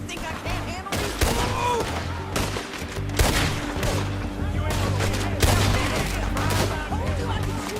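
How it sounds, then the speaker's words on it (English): Rapid volleys of gunfire in a Red Dead Redemption 2 cutscene, a game shootout with sharp shots cracking one after another, close and loud, over a steady low rumble and scattered voices. "I told you I could shoot a gun, didn't I?"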